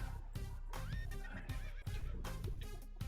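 A horse neighs in repeated shrill whinnies with short breaths between them. The sound effect plays as the horse is set on fire and stays loud and close, with no talk over it.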